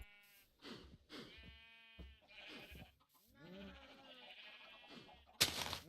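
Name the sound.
sheep bleating in the video game Minecraft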